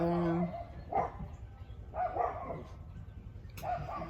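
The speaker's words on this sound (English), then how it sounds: "They bark at them every time they try to drive by." Dogs bark in short bursts, three or four spaced barks at moderate distance, with a brief voice at the start.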